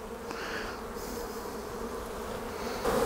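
Honeybees in an opened hive colony among brood frames, a steady close buzzing hum from many insects continuing throughout, quiet and without talk.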